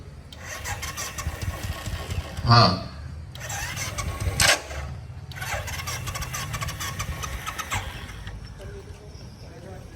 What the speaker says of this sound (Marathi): गाडी चालू ठेव गाडी चालू गाडी चालू कर